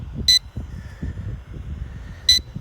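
Two short, sharp electronic beeps from a JJRC H78G GPS folding camera drone signalling low battery, spaced about two seconds apart over a faint background hum.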